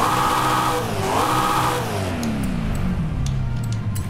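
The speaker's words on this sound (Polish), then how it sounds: "Wraz z tym, jak zwiększają nam się maksymalne obroty samochodu, faktycznie jest to słyszalne" A car engine revs in a garage in Forza Horizon 5, rising and falling steadily without pause, loud and close, with no talk over it.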